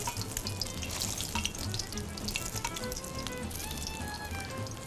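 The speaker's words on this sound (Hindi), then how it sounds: "इसको फ्राई कर रही हूँ।" Egg-dipped chana dal kababs frying in oil, giving a dense, steady crackling sizzle close up, fairly quiet overall with no talking.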